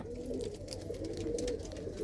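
An old pigeon from Sanga Logar gives low, soft cooing close by, a brief murmuring call over a quiet, slightly noisy background.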